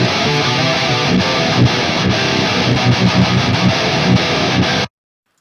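Heavily distorted metal guitars recorded DI and run through a Softube Celestion Speaker Shaper, left and right tracks chugging in a dense, loud, continuous wall of riffing that cuts off abruptly.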